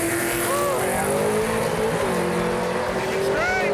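A red and white 1968 Chevy Camaro making a drag racing pass, its engine a loud, steady roar with rising harmonic whines as it pulls hard down the strip, with crowd noise and a commentator's voice layered over it.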